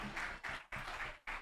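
An indoor audience at a speech competition awards ceremony claps for the winners in several dense bursts of applause with brief dips between them and no talking.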